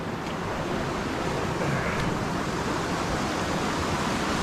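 A meltwater stream on the Trail of the Cedars flows strongly, a steady, loud broadband rush of water with no breaks or voices.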